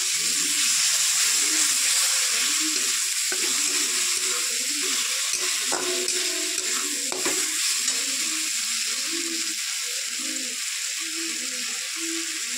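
Tomato with ground spice paste frying in a pan for a Bengali puti fish chorchori, a continuous loud sizzle broken by repeated scraping stirs and a couple of sharp clinks.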